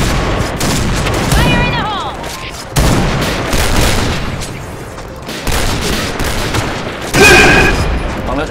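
Dense gunfire fills a Point Blank shooter match, with rapid bursts and heavy booming shots rolling almost without a break, loud and close, while game sounds and talk mix in.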